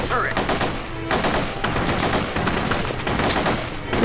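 A gun turret fires in The Punisher video game, producing dense, continuous rapid gunfire with rattling bursts that stay loud and steady from start to finish.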